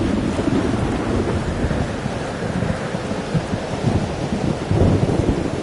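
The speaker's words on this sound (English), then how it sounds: "Weather's worse than I remember it. Storm followed me." A thunderstorm with heavy rain in the video game LISDE 2, a dense, constant roar of rainfall with low rumbling thunder underneath, swelling slightly toward the end, with no voices.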